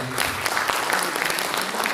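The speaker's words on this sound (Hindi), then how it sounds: "जोरदार ताली" Steady applause from an audience fills the whole stretch, dense and continuous clapping at an even level.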